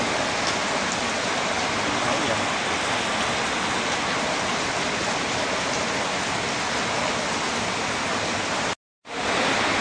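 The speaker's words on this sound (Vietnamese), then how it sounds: "Giờ mới 4 giờ mà nó mưa đen thui luôn rồi." Heavy rain pours steadily and loudly in a dense continuous roar at dusk, with no talking and one very brief break near the end.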